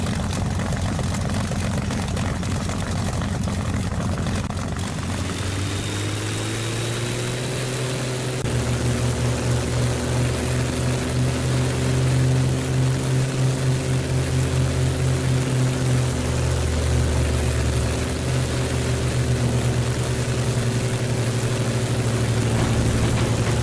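A propeller-driven fighter plane taxiing for takeoff in the video game Gates of Hell: Ostfront, its engine droning steadily and rising in pitch as the throttle opens, loud and continuous throughout.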